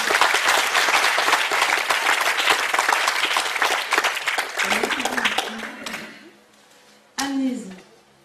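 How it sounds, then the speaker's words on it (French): Dense audience applause at a poetry slam evening during a festival, loud and sustained for several seconds before thinning out and fading, followed by a brief sharp burst of sound. "alors vous pouvez applaudir Sylvie."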